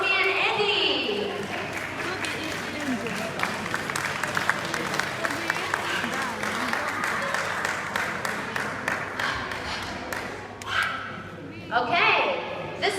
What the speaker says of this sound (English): give a round of applause for Toby and Eddie